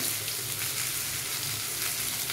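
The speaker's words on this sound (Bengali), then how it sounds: "পটল আলু ভাজা হয়ে গেছে। এরপর আমি সবজিগুলো এক এক করে দিয়ে দেব। এটা আমি প্রথমে ঝিঙেটা দিয়ে দিলাম।" Ridge gourd pieces dropped into a pan of frying pointed gourd and potatoes, giving a steady, close hiss of sizzling oil that holds evenly throughout with faint stirring underneath.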